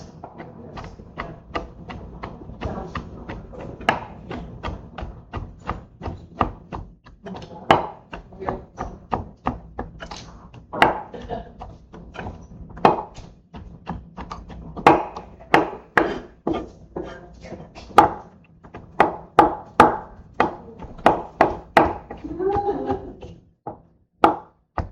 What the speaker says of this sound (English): So then I'm going to cut them up real finely.